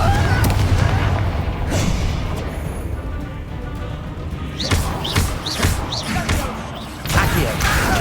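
Explosive spell blasts in the video game Hogwarts Legacy, a series of loud booming impacts and bursts over dense game noise, with a cluster of sharp hits in the second half.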